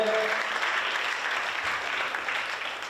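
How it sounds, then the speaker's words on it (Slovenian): Audience applause for the Sežana basketball players at a youth basketball tournament, a sustained crowd clap, steady and fairly loud, tapering slightly at the close, with a brief voice at the very start. "Še velik aplavz za košarkarje Sežane."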